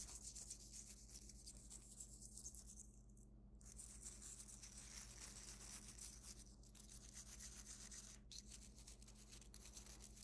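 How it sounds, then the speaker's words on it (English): A brass brush scrubs the bolt head of a K31 rifle during cleaning, giving soft, steady, scratchy rubbing strokes at low level over a constant background hum. "We're going to take a brass brush and begin scrubbing it."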